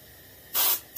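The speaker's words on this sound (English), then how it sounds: "angle spraying, you've seen that." An airbrush sprays paint onto a skin-mounted bluegill fish, with a soft background hiss broken by two sharp, close bursts of spray, one about a quarter second long and another starting at the end.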